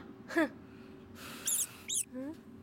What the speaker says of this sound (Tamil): உங்க ஆபீஸ்ல எலி நடமாட்டம் அதிகமா இருக்கு.